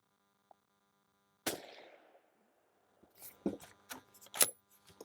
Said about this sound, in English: we're gonna go for a 3-shot group here. at 100 yards